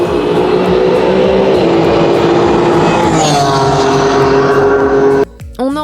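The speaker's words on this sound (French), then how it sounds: "Et on est directement allé dans les paddocks pour voir les voitures partir pour les tests et les qualifs." Ligier JS2R race cars pull out of the paddock at a Ligier JS Cup France meeting. Their loud, steady engine drone close by rises and shifts in pitch, then breaks off abruptly near the end.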